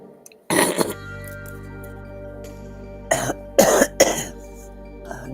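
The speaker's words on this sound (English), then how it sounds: "Now I've got a cough." A person coughs several times, with one harsh burst early on and then a close cluster of three or four coughs a few seconds later. The coughs are loud and near, with quiet room tone between them.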